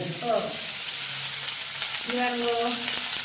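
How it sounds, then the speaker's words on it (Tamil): Onions sautéing in hot oil in a home kitchen give a steady close sizzle and crackle, with brief stirring scrapes and faint tonal clinks over the frying hiss. "எண்ணெய் வச்சுட்டு நாங்கள் வெங்காயத்தை போட்டு வதக்குவோம்."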